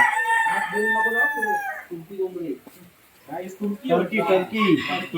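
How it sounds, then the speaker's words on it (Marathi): A frizzle rooster crows loudly and close, a long drawn-out call, followed by clucking and more crowing from nearby frizzle chickens at an elephant park. "फ्रिजल नावाचे काहीतरी आहे ते कोंबडे बघा"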